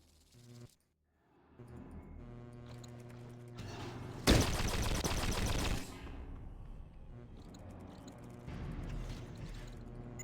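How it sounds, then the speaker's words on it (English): Gunfire against turrets in the Fallout Tactics: Brotherhood of Steel video game, a sharp loud burst of rapid shots partway through, set among quieter game sounds and music. "We're running through a lot of ammo just shooting those turrets."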